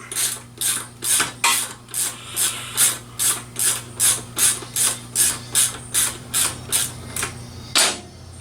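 A ratchet wrench turns a 17 mm nut on a tire valve stem: a steady, even run of about sixteen close, loud raspy clicking strokes, then a final heavier click near the end.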